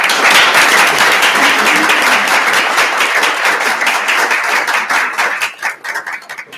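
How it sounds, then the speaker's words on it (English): A round of applause at a city council meeting, loud and dense clapping from a crowd that holds steady for several seconds before thinning into scattered claps at the end. "let's give them a round of applause"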